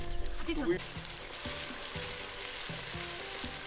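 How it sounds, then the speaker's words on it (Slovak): Chopped onion frying in a pan, a soft steady sizzle with crackling underneath, heard close and fairly quiet with faint background clatter. "Tak, cibuľa už sa pripeká."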